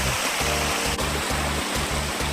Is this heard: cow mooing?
no